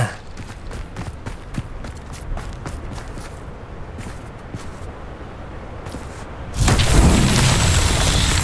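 An Incendio fire spell bursts loudly in Hogwarts Legacy, a sudden roaring whoosh that follows a stretch of quiet footsteps and thuds, then holds as a sustained fiery rush.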